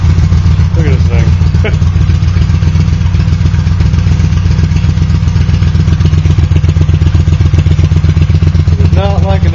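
A Honda CX500 motorcycle with no mufflers idles loudly and roughly in cold weather, a close, pounding engine rumble with uneven beats throughout; a voice speaks briefly over it.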